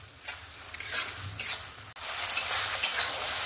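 Ground spices being stirred and fried in a pan of oil for a katla fish curry with potato and pointed gourd, a steady close sizzle with scraping strokes throughout.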